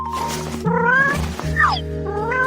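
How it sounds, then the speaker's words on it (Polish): A cat meows several times right after being let out, drawn-out rising and falling cries over a steady background hum, fairly close and loud with no talk. "Teraz mogę cię wypuścić, kotku."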